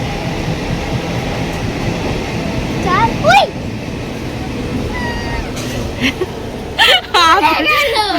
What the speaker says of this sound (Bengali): ওই যে ট্রেন যাচ্ছে চলেও গেল